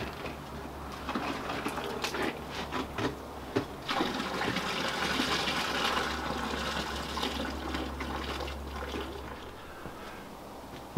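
Water rushes into a caravan toilet cassette as it is rinsed, making a steady gurgling flow with sloshing that runs for several seconds before tapering off.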